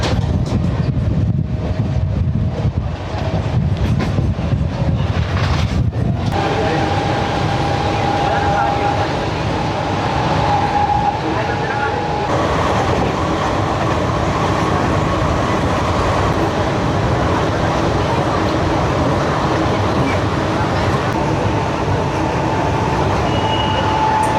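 A Virar–Dahanu slow local train runs along, its continuous loud rumble heard from inside the coach with wind buffeting the microphone and occasional thin squeals and tones from the wheels and track.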